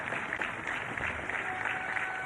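A crowd claps steadily in dense, even applause, moderately loud throughout.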